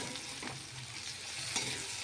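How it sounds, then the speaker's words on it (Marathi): Potato and green chili fry together in a pan while sago khichdi is being made. A soft, low sizzle continues throughout, with faint stirring scrapes and no speech. "मिक्स हे फ्राय करून घ्यायचं आहे बटाटा आणि मिरची."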